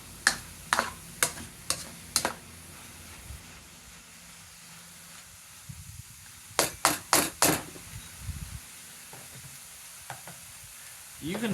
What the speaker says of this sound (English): I'm just gonna sit here and cook and cook and cook and stir to make sure nothing burns